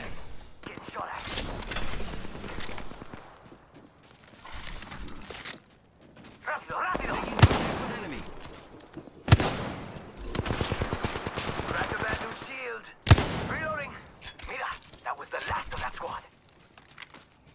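Video game gunfire in scattered bursts, some crisp near shots and some duller exchanges, mixed with weapon handling clicks and a speaking voice throughout.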